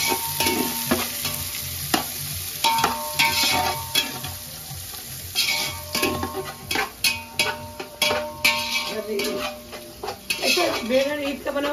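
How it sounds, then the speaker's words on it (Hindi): A spoon stirs and mixes food in a metal cooking pot over the heat, with sizzling under repeated clanking scrapes that grow sharper and quicker toward the end, close by, and a voice now and then. "अच्छे से इसको मिक्स करेंगे"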